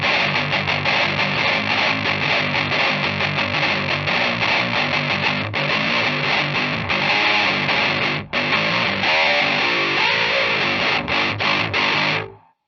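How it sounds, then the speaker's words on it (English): An electric guitar played through an Ammoon PockRock multi-effects unit on distortion and crunch settings chugs loud, saturated chords and riffs almost continuously, with brief breaks, then fades out at the end. "the distortion and the crunch are definitely the standouts"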